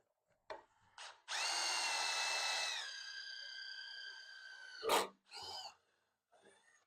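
A power drill spins up loudly and bores a hole in metal with cutting oil for a couple of seconds, its whine dropping in pitch as it bites, followed by a few short knocks.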